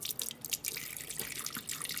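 Coconut water pours and splashes out of a freshly cut coconut into a container, giving close, irregular trickling and dripping liquid sounds, alone with no talk.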